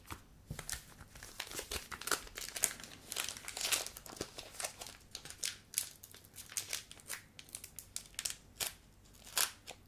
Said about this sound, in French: On va ouvrir ce booster maintenant.